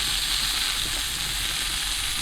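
Food sizzles on a stovetop grill pan in a steady, close, even hiss that carries on for the whole stretch, with no voices.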